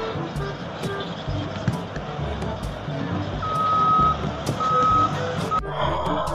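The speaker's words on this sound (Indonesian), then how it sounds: "Wah, kita mendapatkan truk tambang." A toy mining truck gives off a high electronic reversing beep in a few spaced bursts, over a busy background of toy-vehicle motor whir and clatter, with faint talk nearby.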